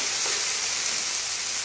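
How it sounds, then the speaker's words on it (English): Squid frying in a hot pan for arroz negro, a loud continuous sizzle and crackle close up, with no voices. "We are frying our squid"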